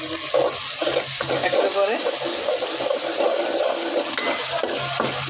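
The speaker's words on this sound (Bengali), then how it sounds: "সামান্য একটু গরম জল দিয়ে দিচ্ছি।" Hot water is poured into a pot of simmering chicken curry, a close splashing and bubbling wash over the cooking hiss, with someone speaking briefly over it.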